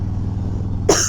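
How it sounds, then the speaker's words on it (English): A low steady hum runs until a single sharp cough bursts out near the end, close and loud. "Oh no, I'm gonna cough."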